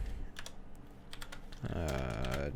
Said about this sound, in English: Hopefully my keyboard's not too loud.